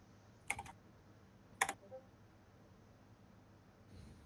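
Keys clack on a computer keyboard in two short bursts of quick clicks, soft and close, separated by quiet stretches in a room during a tabletop role-playing meeting.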